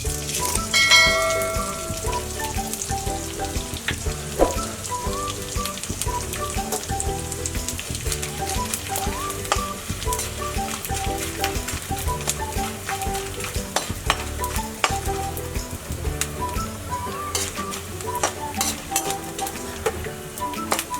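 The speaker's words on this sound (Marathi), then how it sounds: "आता डिंक बारीक केलाय मी कुटून, डिंकाला तळून घेणार आहे" Finely pounded edible gum (dink) frying in about 100 grams of ghee in a kadhai gives a continuous, busy sizzle and crackle, with occasional clinks of a stirring utensil, and no talking.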